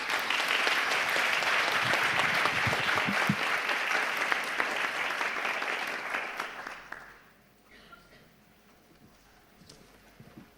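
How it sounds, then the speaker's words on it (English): Sustained audience applause for panel speakers at a conference session, full and loud for around seven seconds before thinning out and fading into quiet room tone. "So please give them a big round of applause."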